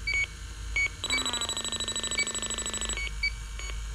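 A refrigerant leak detector gives short beeps, then breaks into a long rapid electronic warble for about two seconds before returning to single spaced beeps. The sound is clear and close, with no talk over it.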